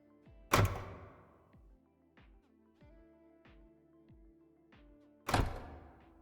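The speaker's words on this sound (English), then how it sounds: "There's also a power locks sound to add some transient. It's also pitched down." Two heavy, deep mechanical thunks about five seconds apart, from car power door locks pitched down, each with a short ringing tail, separated by quieter low knocks.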